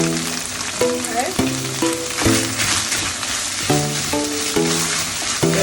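Beef with Jamaican jerk seasoning sizzles loudly in a pan, with a spoon scraping and clanking against the pan in repeated stirring strokes.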